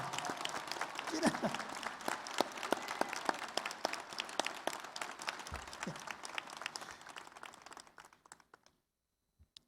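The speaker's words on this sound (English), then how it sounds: "Please give a round of applause for Fred and Ziona" Audience applause at a spring university commencement ceremony, a steady round of clapping in a large venue that gradually thins and tapers off to silence near the end.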